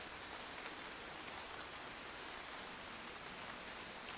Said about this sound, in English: There's something about the sound of the rain that just brings so much peace.